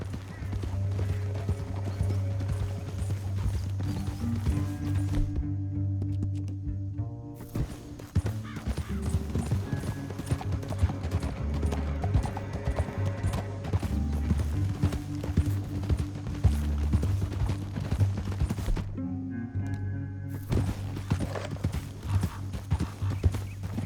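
Horse hooves gallop in a fast, steady clip-clop rhythm in Red Dead Redemption 2, close and continuous over a low rumble of game sound, with a couple of brief pauses and an occasional whinny.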